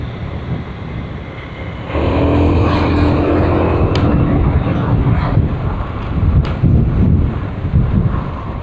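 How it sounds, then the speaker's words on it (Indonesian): Heavy wind buffeting a camera during a night motorbike ride on a main road in Padang, a loud continuous roar that swells after a couple of seconds, with engine and traffic mixed in. "Masuk kan ini kencang nih angin sekarang nih di jalan raya ini."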